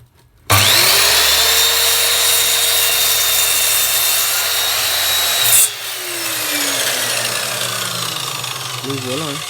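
A Woodstar 1500W miter saw cuts through a wooden batten, its motor spinning up sharply into a loud, sustained whine with a bright tonal hum, then the pitch and level drop as the blade passes through and the motor winds down.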